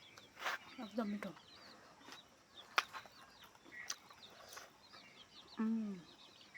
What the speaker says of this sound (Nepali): कुखुरा पनि यता आइरहेछ जस्तो लाग्छ